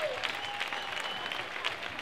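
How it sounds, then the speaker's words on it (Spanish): Audience applause at a pop music festival concert at a music conservatory in Caravaca, a steady wash of clapping from a crowd heard at moderate distance, with faint voices mixed in. "Un aplauso por el Ayuntamiento."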